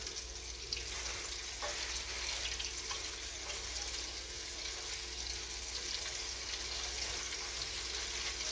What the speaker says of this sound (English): And I'm frying these at 340 degrees.